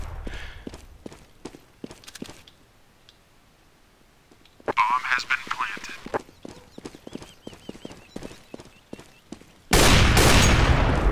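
Gunfire in the game CS:GO, a run of sharp, rapid shots ticking through the match with a louder burst of noise at the end, while players chat over it.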